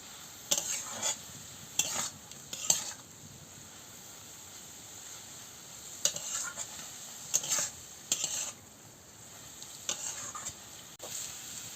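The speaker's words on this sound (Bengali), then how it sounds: "মিষ্টিটাও দিয়ে দিচ্ছি দিয়ে ভালো করে নাড়াচ্ছি" A spoon stirs banana stem curry with mustard paste in a pan, giving several bursts of scraping and stirring over a faint steady sizzle, close and moderately loud, with no talking.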